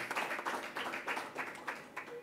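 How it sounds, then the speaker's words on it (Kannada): An audience clapping in thanks at a Hindustani classical music concert, a moderate burst of applause with uneven claps pulsing in loose waves, fairly distant and soft. "ತಮ್ಮ ಚಪ್ಪಾಳೆ ಮೂಲಕ ಮತ್ತೊಮ್ಮೆ ಕೃತಜ್ಞತೆ ಅರ್ಪಿಸೋಣ"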